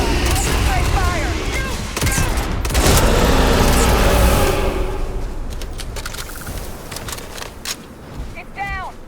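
Sci-fi gunfire in a Starfield firefight, with dense bursts of shots and booms at close range under shouting voices, then the fighting thins out into scattered later shots.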